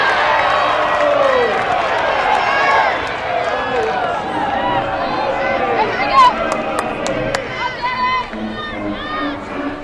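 Crowd noise at an NCAA softball game between NC State and Florida State, a broad stadium murmur with scattered shouts and claps reacting to a run-scoring call, heard steadily beneath close play-by-play commentary.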